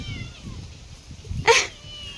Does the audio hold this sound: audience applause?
no